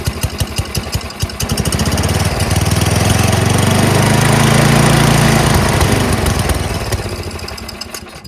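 MTD 824 dual-stage snowblower with an 8hp Tecumseh Snow King engine running on choke with a dirty carburetor, a loud close chugging putter that swells into a steady roar then eases back to a rough, lopey idle.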